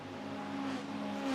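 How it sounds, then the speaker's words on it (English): A Corvette race car engine drones steadily at high revs at Interlagos, its tone shifting slightly as it holds speed, heard alone without voices. "I love the sound of that Corvette"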